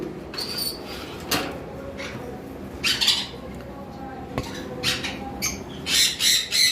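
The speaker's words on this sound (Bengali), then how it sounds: "এখানে একটা পেয়ার লাভবার্ড রয়েছে আমি কাছ থেকে দেখাচ্ছি" A pair of green lovebirds give several sharp, shrill squawks in irregular bursts, close by, with some rustling and clatter between the calls.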